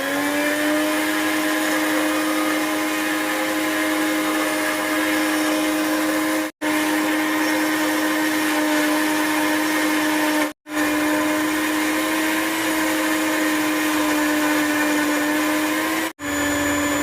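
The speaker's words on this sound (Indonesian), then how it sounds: "Sebelum di blender kita pakai air dulu sedikit." A blender grinding spices with a little water runs loud and steady with a high motor whine, briefly cutting out three times before starting again, no talking.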